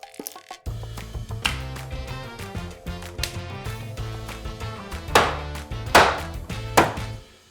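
A knife chops through a whole snapper on a cutting board in a kitchen, with three sharp, heavy strikes near the end over steady background music.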